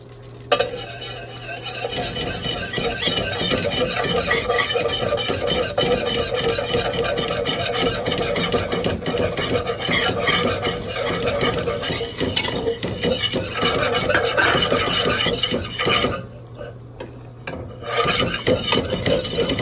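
A whisk or spoon scraping steadily against a pot while stirring a roux for béchamel, a continuous rasping, rubbing sound with a faint sizzle, close up, pausing briefly near the end before resuming.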